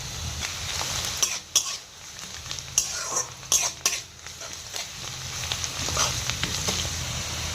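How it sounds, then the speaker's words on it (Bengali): Sliced onion frying with a spoonful of sugar in a pan for Bengali rui fish kalia: a steady close sizzle with repeated scraping stirs and clinks of the spoon against the pan. "এখন আমি পেঁয়াজটা ভাজার সময় 1 চামচ চিনি দিয়ে দেবো"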